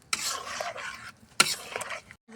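A spoon scrapes and stirs curry in a pot after water has been poured in, giving several short, close, irregular stirring strokes with brief pauses.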